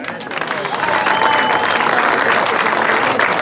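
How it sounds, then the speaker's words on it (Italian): At an awards ceremony for a mini slalom in Amendolara, an audience applauds a first-place winner with dense, steady clapping that swells after the first second and stays strong to the end. "Un applauso per Emilia, grazie"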